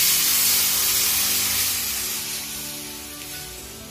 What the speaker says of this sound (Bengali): এবার ডালটা ঢেলে দিই।